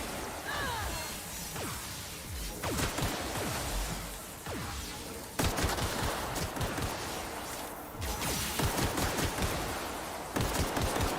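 A shotgun in The Outer Worlds fires repeatedly in a chaotic fight, with loud close blasts and clatter in irregular bursts among other combat noise.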